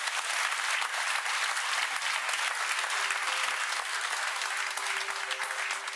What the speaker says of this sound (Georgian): აპლოდისმენტები თამუნას უკაცია.